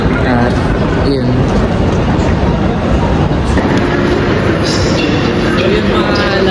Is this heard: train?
yes